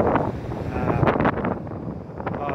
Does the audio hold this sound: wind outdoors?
yes